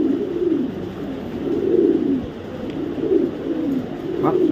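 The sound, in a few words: white racer pigeons cooing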